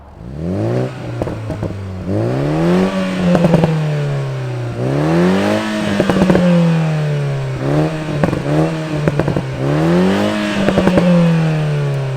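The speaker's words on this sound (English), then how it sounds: "We got the four banger. Let's fire it up and hear what it sounds like." The 2.0-litre four-cylinder engine of a 2022 Toyota Supra cranks and catches, then revs up and down repeatedly, each rise in pitch followed by a settling idle, loud and close.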